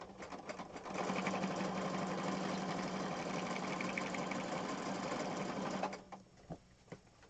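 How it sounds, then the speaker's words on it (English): Sewing machine stitching a scrappy junk journal cover: a steady, close mechanical whir runs for about five seconds before stopping, with light handling sounds on either side. "I'm going to sew down, and I'm going to cut the thread, pick it up, and sew this way."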